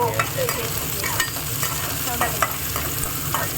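Onions fry in a pan with a close, steady sizzle while a spatula scrapes and stirs them in repeated strokes, with no talking heard.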